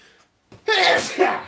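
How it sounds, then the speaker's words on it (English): A sharp sneeze bursts out after a brief silence and a quick inhale, loud and close, trailing off into a breathy vocal sound. "I'm going to sneeze again"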